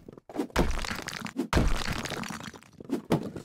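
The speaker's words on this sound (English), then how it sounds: "The sound of the wall shattering is like really doing something for me." Heavy crunching and cracking crashes of a wall shattering in the video game House Flipper burst out in several loud impacts, each followed by crumbling debris, with no voices.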